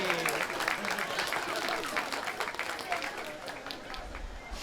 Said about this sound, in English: A round of applause for Josh.